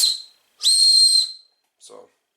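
A compact survival whistle from a first aid kit blown in three loud, shrill blasts: a short opening toot, a long sustained blast, then a brief final chirp, with no talking.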